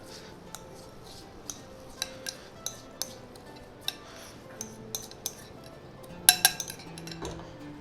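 Boondi being stirred into sugar syrup in a pan for motichoor ladoo, heard as light, scattered clinks and scrapes of a spoon against the metal pan with soft sticky shuffling between them, close and moderately quiet, with no talking.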